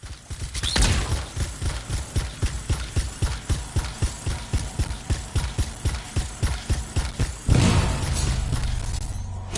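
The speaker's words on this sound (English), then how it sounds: "It'll be a contained explosion." Canisters exploding in a PS4 game, heard as a rapid regular series of loud bangs with a steady rhythm, followed by one bigger blast and a rumbling tail.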